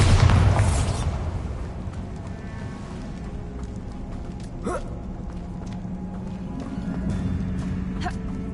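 Spell blast from Bombarda in Hogwarts Legacy, a loud low boom at the start that fades into rumbling cave ambience with scattered faint pops and creaks.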